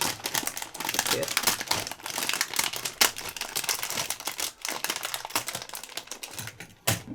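Plastic packaging on a Gunpla model kit is cut open, giving close crinkling, tearing and crackling sounds with a few sharp snaps, while someone talks over it.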